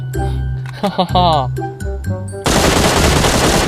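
M4 rifle fire in the mobile battle game PUBG Mobile, a loud sustained burst of dense automatic gunfire that cuts in after a run of short tonal in-game chimes and effects.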